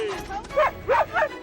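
Sled dogs bark on a film set staged as an Antarctic landscape, with three sharp, yipping barks in quick succession close by over a low background murmur.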